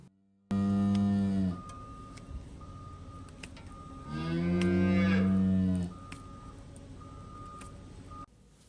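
A cow in a hoof-trimming chute moos loudly twice, a short call followed by a longer drawn-out one, over a steady mechanical hum and faint intermittent beeping.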